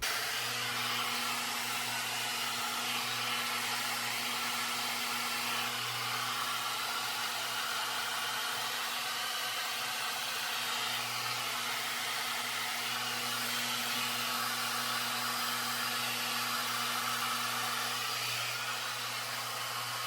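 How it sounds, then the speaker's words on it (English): A hair dryer runs continuously on low, steady heat while drying curly hair, a close, even whooshing drone with a constant motor hum for the full duration. "I'm going to continue drying it now that it's parted"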